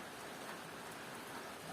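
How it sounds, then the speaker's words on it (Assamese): Steady rain falls continuously near a fishing spot, a dense even patter of drops hitting surfaces throughout, with no voices or other sounds above it. "বৰষুণ দিলেতো সেইকাৰণে আৰু মাছ নধৰিলোঁ"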